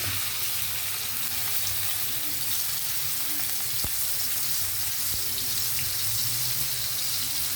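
Chopped onion frying in hot oil for a fish curry, a loud, steady, dense sizzle that holds for the whole stretch with no talking.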